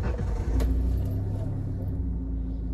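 A Maruti Suzuki CNG car engine idles close by after starting, a steady low rumble with a slight rev near the start, running evenly throughout.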